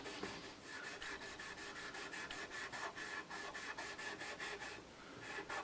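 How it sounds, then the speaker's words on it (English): Microfiber cloth rubbing conditioner into the wooden body of a guitar, a steady close scrubbing swish repeating in quick back-and-forth strokes for several seconds, quiet and with no talking. "just rub it into the wood"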